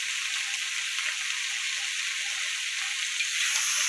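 Green chilies sizzling in hot oil together with dried fish and beans, a steady, close, bright crackle that holds evenly throughout and swells slightly toward the end, with no talking.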